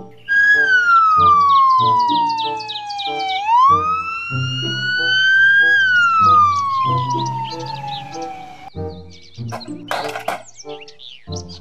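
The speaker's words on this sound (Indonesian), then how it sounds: "Mobil patroli polisi." A toy police patrol car plays a loud electronic siren, a wailing tone that sweeps down, back up and down again, over a rapid beeping pattern that breaks into choppier bursts near the end, close and with no voices.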